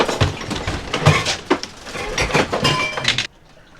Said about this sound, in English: Those are things in the sink, creaking and cracking